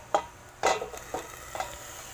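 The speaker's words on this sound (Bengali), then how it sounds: "এবার সমস্ত উপকরণ একসাথে ভালো করে নেড়ে চেড়ে আমাদের কিন্তু এখানে ভালো করে মিশিয়ে নিতে হবে" Flat beans and mixed ingredients being stirred in a pan, four distinct scraping strokes of a utensil separated by short pauses, over a faint sizzle.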